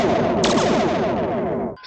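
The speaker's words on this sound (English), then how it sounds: "Stop firing the weapons!" Rapid sci-fi starship phaser fire, a dense stream of overlapping laser-like energy bursts that stays loud and continuous for nearly two seconds before cutting off abruptly.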